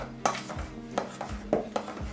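Spoon scraping and clinking against a bowl while banana muffin batter is stirred, a handful of light taps and scrapes spaced irregularly, close and fairly quiet.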